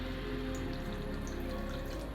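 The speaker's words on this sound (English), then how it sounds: "And then you're gonna pour some water." Water is poured into coffee made for drawing, a steady trickling splash that runs on without pause, close and fairly quiet.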